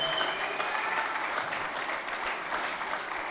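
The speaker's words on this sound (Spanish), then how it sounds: "Fuerte ese aplauso a nuestro Dios." Church congregation applauding loudly and steadily, a dense wash of clapping from many hands that fills the whole space without a break.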